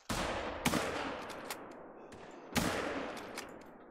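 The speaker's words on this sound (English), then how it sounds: "Gunshots everywhere." Rifle gunshots in the hunting game theHunter Call of the Wild, a loud close shot with a long rolling echo, then a second shot about two seconds later, with fainter distant shots between.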